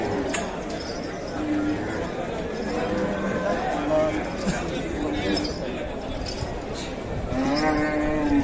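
Cows mooing at the Dabwali cattle market in Punjab, several drawn-out lowing calls rising over a busy crowd, with people talking nearby throughout and occasional livestock shuffling.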